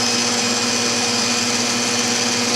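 An electric mixer beating carrot cake batter at a raised speed, giving a loud, steady, unbroken whir with no voices.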